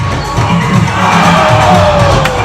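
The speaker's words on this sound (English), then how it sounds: "Yeah, the crowd is wild over here, man." Crowd at a live MLW wrestling event in NYC, a loud sustained roar of cheering and shouting from a packed audience, heard close and continuous.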